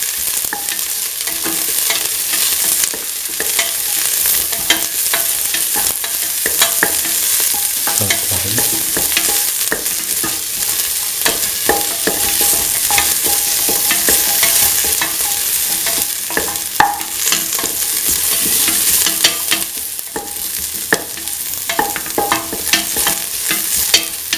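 Salted chopped onions and shallots fry hard in a pan, a loud, steady sizzle that runs without a break while a utensil stirs and scrapes through them.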